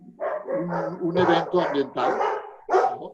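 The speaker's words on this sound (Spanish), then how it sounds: "Perdón por los perros." Dogs bark repeatedly in short, loud bursts close to the microphone, with some yips mixed in, all under a man's speech during an online conversation.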